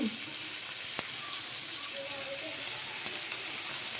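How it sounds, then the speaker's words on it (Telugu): Red lentils go into a tomato masala frying in a pan, with a continuous close sizzle and hiss plus a brief clatter as they are dropped in and stirred. "ఇప్పుడు పప్పు వేసేద్దాము దీంట్లో ఇది ఎర్రపప్పు అండి"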